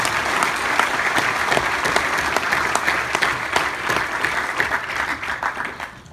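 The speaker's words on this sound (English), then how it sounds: "Let's give them another round of applause." Sustained audience applause at an award ceremony, a dense wash of many hands clapping steadily for several seconds at close range, easing slightly near the end.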